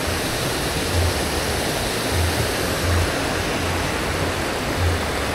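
Fairly wide, clear river flowing near a tea factory in Rancasuni, heard as a loud continuous rushing of water that sits close and steady throughout, with no voices.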